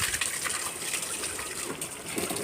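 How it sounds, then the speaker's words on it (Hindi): Water splashes and gushes steadily as it is poured onto potted household plants, a continuous close wash of sound without a break. "तो इस टाइम जो है अपने पौधों में पानी मैं दे दूँ।"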